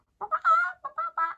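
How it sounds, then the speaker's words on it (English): A rooster crows nearby, a series of harsh, rising and falling calls in several bursts, loud and clear with no talking. "they do have roosters, so if you guys hear the"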